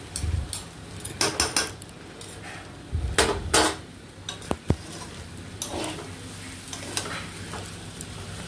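Egg chowmein is stirred and tossed in a pan, with a low sizzle under intermittent clanks and scrapes of a metal utensil against the pan, some sharp knocks coming in short clusters.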